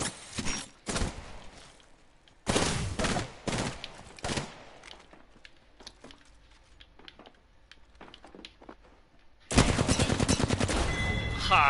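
Gunfire in a video game: bursts of rapid automatic shots, separated by quieter stretches of scattered single shots, ending in a long, loud, dense volley.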